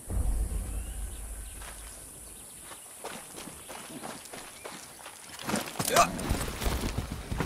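Horse hooves clip-clop steadily in the video game Far Cry 6, a moderate-paced series of footfalls under ambient game sound, with a brief louder burst near the end.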